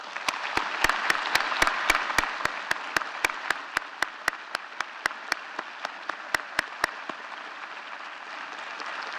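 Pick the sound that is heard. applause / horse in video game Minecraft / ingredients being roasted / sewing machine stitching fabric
applause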